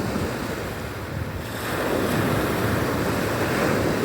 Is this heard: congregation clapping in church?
no